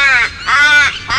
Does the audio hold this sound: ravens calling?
yes